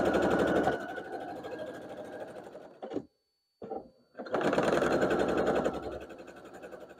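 A sewing machine stitches quilt block pieces together in rapid, even bursts of whirring clatter, stopping briefly in the middle with a short silence and a few clicks, then running steadily again.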